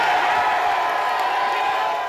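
A large outdoor crowd of about 10,000 at an old-fashioned political stump speaking event cheers and heckles at once, a steady dense roar of voices, shouts and whoops with no break.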